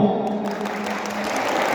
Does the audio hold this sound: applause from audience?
yes